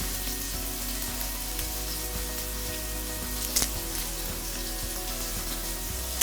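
Meat browning in a pan for a healthy Indian takeaway-style dish sizzles and crackles steadily, a dense continuous hiss with a few louder pops, close to the listener and with no talking.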